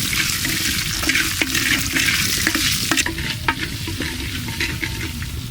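Onions fry until golden in sesame oil in a pan, with a close, steady sizzle and stirring scrapes and clicks throughout.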